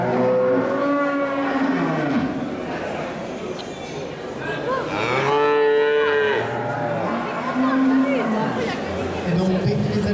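Montbéliarde cattle at an agricultural fair moo in long, loud, drawn-out calls, several in succession, over steady crowd chatter and a voice talking nearby.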